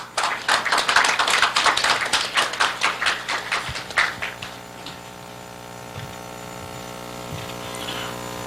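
Warm applause from an audience at a civic group's launch ceremony, welcoming a speaker to the podium; dense clapping for about four seconds, then fading to a quiet, hum-filled room.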